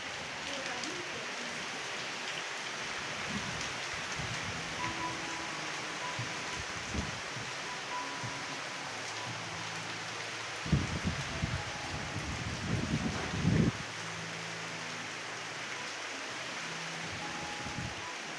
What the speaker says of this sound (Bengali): এই সময় কিন্তু বাইরে সেই জোরে বৃষ্টি হচ্ছিল, তারও কিছুটা শেয়ার করছি আপনাদের সাথে